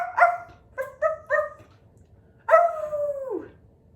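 A person imitates a dog's bark during a children's story session: a single yelp, then three quick barks in a row, and finally a long howl-like bark that falls in pitch, each close and clear against a quiet room.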